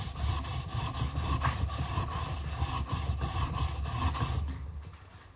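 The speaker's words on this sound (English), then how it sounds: "because my chisels are fairly sharp, I only need to give them a very, very slight sharpen" A wood chisel sharpened flat on its back, a close rhythmic rasping scrape in repeated even strokes that stops near the end, with no talking.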